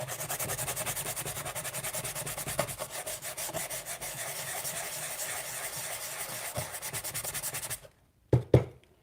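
Dried Dixie Belle mud filler is sanded flat on furniture by hand, a steady close scratchy rubbing for about eight seconds, then a pause and a couple of brief final strokes.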